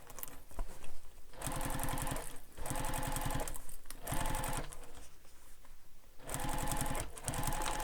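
A sewing machine stitches through a backpack's back panel and luggage sleeve in several close, loud bursts of rapid needle hammering, separated by short pauses.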